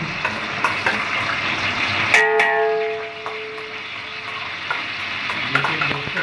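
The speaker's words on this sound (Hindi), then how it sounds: "ये गरम तेल में अभी हम डालें अदरक और लहसुन का पेस्ट।" Ginger-garlic paste hitting hot oil in a home kitchen, bursting into a loud, close sizzle that settles into a steady crackling fry and then slowly eases, with no talking over it.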